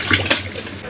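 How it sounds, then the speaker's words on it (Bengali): Water strained off boiled potatoes and cauliflower gives a short, close splashing pour lasting under a second. "এরপর জলটা ছেঁকে নেব।"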